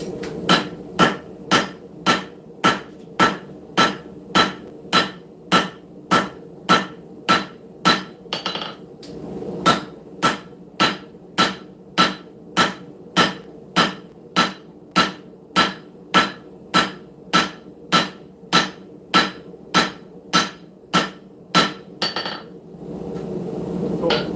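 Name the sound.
hammer forging steel for a camp knife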